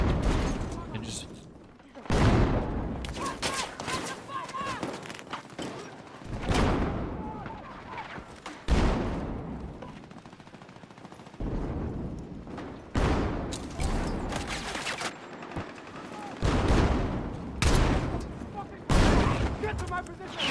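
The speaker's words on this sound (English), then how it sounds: "It's just grenades and grenade launchers." Grenade and grenade-launcher blasts in an online shooter game, a string of loud booming explosions recurring every second or two across the whole stretch, with game noise and voices talking in between.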